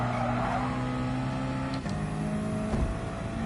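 A small car's engine drones steadily near the rev limiter in a PS4 racing video game, with its pitch dropping at gear changes and a continuous mechanical whine throughout.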